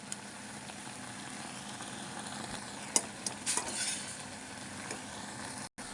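Maggi noodles are stirred with their masala in a pan: a soft, continuous scrape and light sizzle, close by, with a couple of sharper clinks of a utensil against the metal.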